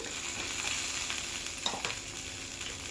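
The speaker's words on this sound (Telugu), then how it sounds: "నెయ్యిని గోల్డ్ కలర్లోకి వచ్చిందాక ఈ పోపు అంతా కట్టె పొంగల్లోకి వేసుకుందాం మనం" A ghee tempering for pongal sizzles and crackles steadily and close, with a few brief scrapes and clicks of a spoon against the pan partway through; no one speaks.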